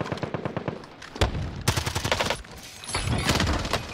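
Rapid automatic gunfire in Call of Duty Warzone Rebirth crackles in dense bursts, loud and near, with short gaps between volleys and sustained rattling fire across the whole stretch.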